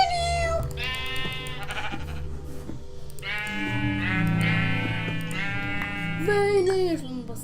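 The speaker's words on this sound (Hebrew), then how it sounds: "וכפי שאתם שומעים יש פה כבשים איפשהו" Minecraft sheep bleat in a series of drawn-out, wavering cries, several calls in a row at close range over a low steady game background, with a voice briefly at the end.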